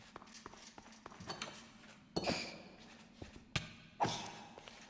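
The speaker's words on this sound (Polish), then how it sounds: "Ale cały czas słychać, że pękają te. Pękają jakieś bloczki." Blocks cracking apart as silverfish emerge in Minecraft, heard as a series of sharp, irregular taps and thuds, a few louder knocks standing out against a quiet low hum.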